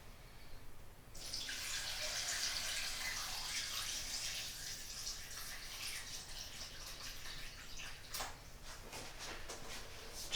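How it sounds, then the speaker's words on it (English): Warm water pours steadily into the tank of a Harbor Freight ultrasonic cleaner, a close, continuous splashing rush that starts abruptly after a second of quiet and keeps going, with some gurgling toward the end. "Fill the unit with warm water to the mark."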